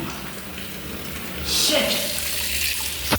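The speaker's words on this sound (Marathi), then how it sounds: "इथं आता गरम पाणी यायला लागले" Hot water runs from a tap, a broad hiss that swells midway and then flows steadily nearby. A person talks over it.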